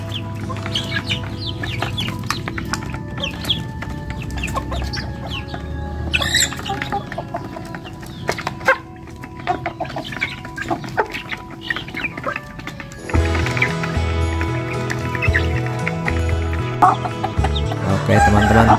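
Bangkok chickens kept as breeding hens on a farm, clucking steadily with repeated roosters crowing, loud and close, the calls getting denser and busier toward the end.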